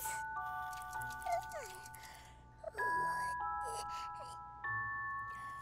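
Soft, sustained bell chimes ring out in a Teletubbies children's show as the little Tiddlytubbies are put to bed, several gentle tones overlapping and changing pitch over about six seconds, with faint voices underneath.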